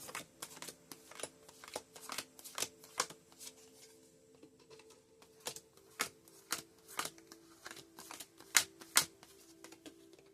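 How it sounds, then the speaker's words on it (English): Tarot cards are peeled one by one off a deck, giving a string of quiet, sharp flicks and snaps at an uneven pace, close and alone, with no talking. "I'm going to go with the 9th card of what I'm peeling in this deck right now"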